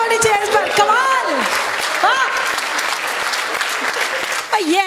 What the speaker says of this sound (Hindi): भाई जोरदार तालियां होनी चाहिए इस पर